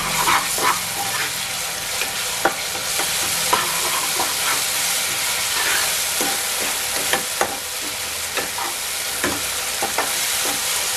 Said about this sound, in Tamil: மசாலாவோட பச்சை வாசனை போய் வர அளவுக்கு நல்லா வதக்கணும்.